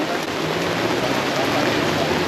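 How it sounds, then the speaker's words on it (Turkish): Rain falling steadily outdoors on a street in a Malaysian Indian neighbourhood, a dense continuous hiss and patter with no pauses. "Yağmur başladı."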